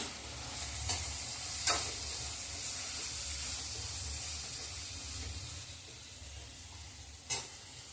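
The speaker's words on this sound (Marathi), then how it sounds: "अशा प्रकारे मी आता त्याला हलवून घेते" Chopped garlic and ginger frying in hot oil while being stirred, a steady close sizzle with a few sharper scrape accents from the utensil, no voices.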